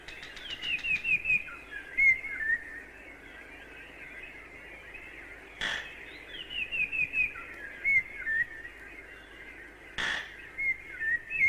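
Many birds chirp and whistle in a tropical garden, a steady chorus of repeated calls, with two sharp bursts of wing flapping close by.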